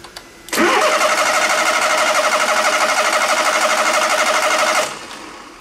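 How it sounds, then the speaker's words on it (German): A car engine cranks on the starter and catches, then runs with a steady, rapid pulsing drone for about four seconds before cutting off, close and loud with no talk, during a starter motor check. "Erst wenn der Motor wieder gestartet wird"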